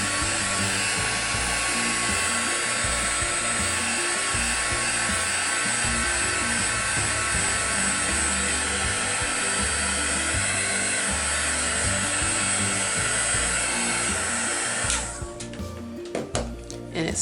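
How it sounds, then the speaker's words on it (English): A heat tool blows steadily to dry ink on a journal page, a continuous loud whirring hiss close by that holds for about fifteen seconds before ending with a few clunks of handling. "I'm just going to take the heating tool and dry it a little bit"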